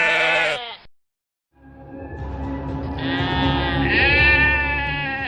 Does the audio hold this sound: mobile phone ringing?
no